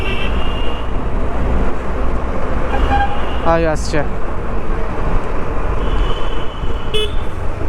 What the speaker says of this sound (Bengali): পিছন দিক থেকে আসছে উড়ন্ত বাস, লোককে উড়িয়ে দিয়ে চলে যাবে, হর্ন দিচ্ছে